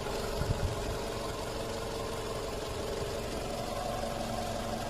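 The 2.0-litre engine of a 2005 Toyota Camry E sedan with automatic transmission idles steadily, a quiet, even hum with light mechanical ticking and no talk over it.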